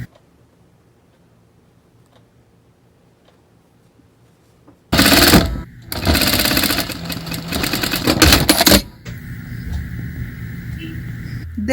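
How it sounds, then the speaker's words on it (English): A sewing machine stitches stretchy dress strap material after a quiet pause, running in a loud, rapid burst of several seconds and then easing into a softer whir. "I stretch the material a little bit while I'm sewing"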